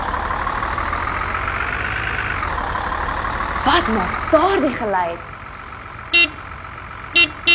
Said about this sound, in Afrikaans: Ja, dit is 'n bus.